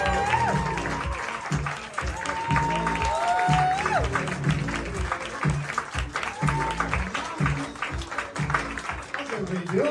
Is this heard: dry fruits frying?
no